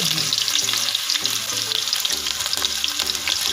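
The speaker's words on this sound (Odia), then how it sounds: "ଦେଖିପାରୁଥିବେ କୋଉଭଳିଆ ତେଲଟା ଫୁଟୁଛି" Oil sizzles and fries steadily in a pan while chicken curry is cooked on a stove, a dense continuous crackle with occasional stirring clunks, close and loud throughout.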